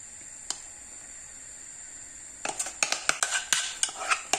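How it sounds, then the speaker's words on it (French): Béchamel sauce being mixed into a chicken and mushroom pie filling, a quiet stretch with one early clink, then a run of close, irregular spoon scrapes and clatters against the bowl. "je vais la mélanger avec la farce"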